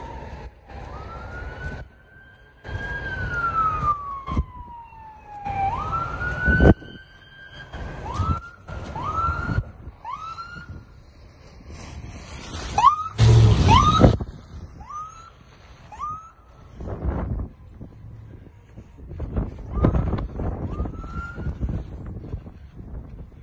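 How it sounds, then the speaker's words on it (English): A fire truck siren wails in rising and falling sweeps, then repeats short whooping yelps, loud and close against a rumbling truck engine and wind. "I can hear sirens coming, so they're on their way."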